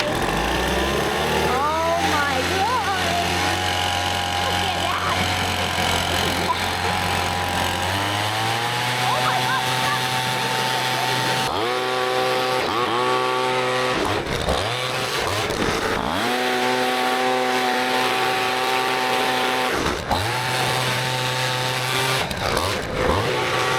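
Air blown through a home HVAC blower fan to clear dust, a loud steady whine whose pitch shifts as the fan wheel spins up and slows, continuous throughout, with people talking over it.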